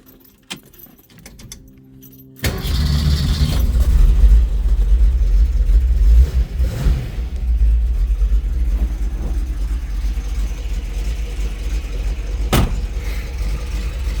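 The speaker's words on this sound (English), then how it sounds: "I am going to shut the hood, and then I'm going to start it for you." A 1967 Shelby GT350's V8 engine cranks and catches, then settles into a loud, steady rumble that continues to the end, with a brief jingle of keys before it starts.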